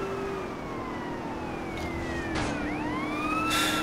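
Police car siren in the video game Grand Theft Auto San Andreas, wailing tones sweeping up and down and overlapping at moderate volume over a steady traffic rumble, with no talk.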